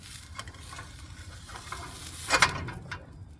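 Burger patty frying in an ungreased pan on a camp stove outdoors, a steady close sizzle with a sharp scrape and hiss burst as it is flipped, then fading.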